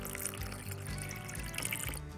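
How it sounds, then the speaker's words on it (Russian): Cold water poured over raisins in a kitchen, a soft continuous splashing and trickling flow heard up close without talk. "100 грамм изюма заливаем тоже холодной водой."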